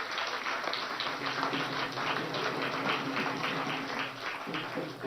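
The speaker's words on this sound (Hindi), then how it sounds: "आदरणीय नितिन गडकरी जी के लिए जोरदार तालियों के साथ हम स्वागत करेंगे" Crowd applause at a political rally welcoming Nitin Gadkari, a steady, fairly distant wash of many hands clapping that holds evenly throughout, with a faint voice underneath.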